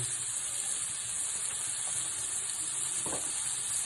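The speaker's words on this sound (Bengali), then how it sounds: "আবার একটু নাড়িয়ে নেব টমেটোটা গলা অবস্থাতে" Tomatoes sizzle and soften in a hot pan with a steady close hiss, broken by a brief scrape of stirring near the end, with no voices.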